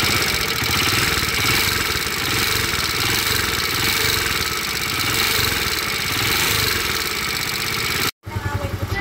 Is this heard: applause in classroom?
no